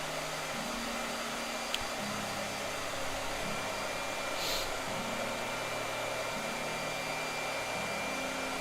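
A blow dryer runs steadily and close throughout, a continuous even airy whir with slight pitch shifts, in a room where someone is painting a letter.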